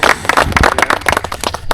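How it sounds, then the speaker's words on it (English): A small group close by claps loudly for Kevin in a quick, uneven burst of sharp individual hand claps. "I want to give a round of applause to Kevin"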